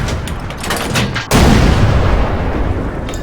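A Comet tank's main gun fires in World of Tanks: one loud, close boom hits partway through, after a rumbling stretch of engine and battle noise, then rings out into a long, heavy decay with no voices.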